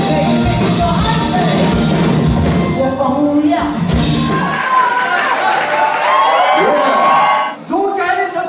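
A band contest audience at a Hamburg final cheers, whoops and applauds loudly, a dense crowd roar with music and a voice mixed in before the noise settles.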